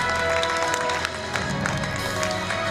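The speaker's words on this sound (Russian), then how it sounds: "Ваши аплодисменты" Applause and crowd noise at an Islamic clothing fashion festival in Kazan fill the space, a dense patter of clapping that continues throughout at fairly steady loudness.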